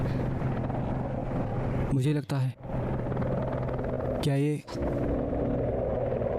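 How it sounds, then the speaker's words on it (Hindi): An ambulance helicopter's continuous low rotor drone hums in the background while a person speaks briefly over it. "एम्बुलेंस हेलीकॉप्टर हो सकता है?"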